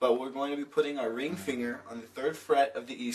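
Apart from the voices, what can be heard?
None of the usual background noises is heard.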